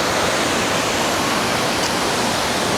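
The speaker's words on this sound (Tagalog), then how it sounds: "Ganda ng waterfall." Waterfall roaring as a steady, dense wash of broadband rushing water, loud and close, continuous without any voices over it.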